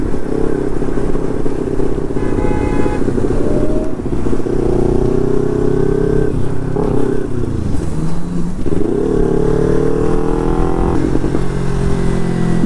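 A Kawasaki Ninja 300 motorcycle with an aftermarket exhaust revving while ridden, loud and close, its engine note rising and falling through repeated throttle blips with a rattly edge.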